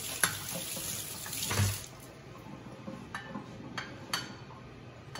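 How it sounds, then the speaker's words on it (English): A kitchen tap runs for hand washing after preparing Brussels sprouts, with a fuller splash at first that thins to a quieter trickle and a few small clinks nearby. "you gotta wash your hands."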